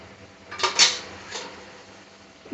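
Spoon scraping through chili powder, turmeric, garam masala, cumin, coriander powder and ginger-garlic paste in a pan for paneer curry, giving a few brief metallic scrapes and clinks over a quiet kitchen hum.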